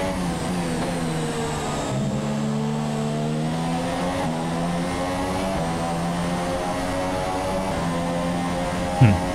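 Formula 1 race car engine from the F1 2017 racing game at the Singapore Grand Prix, a loud, steady high-pitched whine that shifts up and down through the gears, with a short knock near the end.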